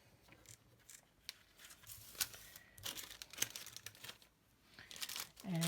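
Paper crinkles and rustles up close as a sheet is handled in small, irregular bursts, with a few sharper crackles. The sounds are faint and there is no talking.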